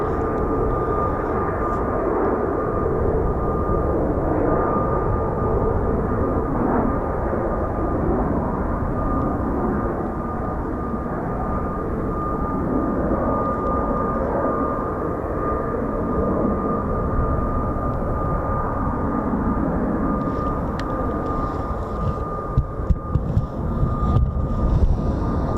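A loud, continuous jet roar from F-35B stealth fighters departing a naval air station holds steady throughout, with faint crackle near the end.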